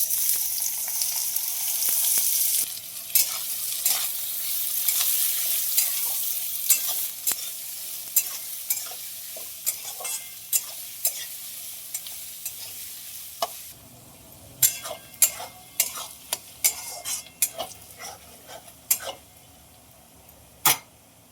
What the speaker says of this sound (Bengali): আর এক কড়াইতে তেল দিয়েছি আর কুচনো পেঁয়াজ দিয়ে দেবো।